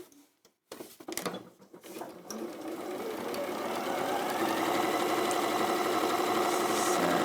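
An Elna 864 sewing machine stitches loosely woven fabric, starting with a few short bursts, then running in a steady, close, continuous whir that builds and holds to the end.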